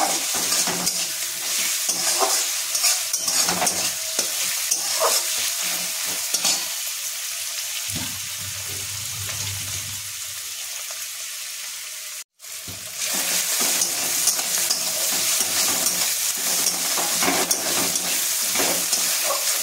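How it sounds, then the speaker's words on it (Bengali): Masala with chopped green chillies fries in a pan, a loud constant sizzle with rhythmic stirring scrapes, briefly softening midway and cutting out for an instant before resuming. "ভালো করে এই মশলাটাকে কষিয়ে নেব"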